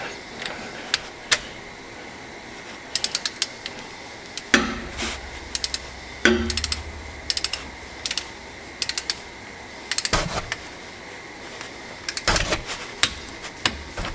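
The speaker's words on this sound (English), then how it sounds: "let's go ahead and torque it down to 25 foot-pounds" A torque wrench tightens a rear differential drain plug on an Infiniti Q60 to 25 foot-pounds. Small clicks and ratcheting taps come in irregular clusters, with a couple of heavier knocks, against a quiet garage background.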